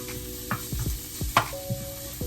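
Chicken browns in sesame oil in a pan, with a faint low sizzle under a series of soft spatula scrapes and taps, plus a brief tonal squeak.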